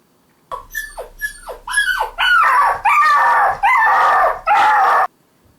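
Dog giving a run of yelping barks that stretch into loud, sustained howls, about eight calls in a row at close range, with near silence before and after.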